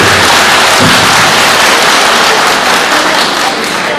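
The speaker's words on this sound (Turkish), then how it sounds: "Bir alkış istiyorum kardeşlerim" Audience applause at a drivers' association meeting, dense continuous clapping filling the room, loud and steady for the whole stretch.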